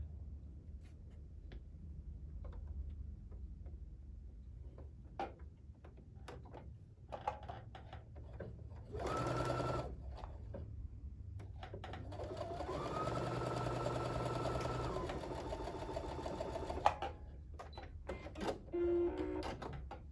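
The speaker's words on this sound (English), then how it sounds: "Match up those little creases and sew it with the square on top." Sewing machine stitching quilt pieces together, a quiet close mechanical whir in short bursts with light ticking handling sounds between, the longest run near the middle.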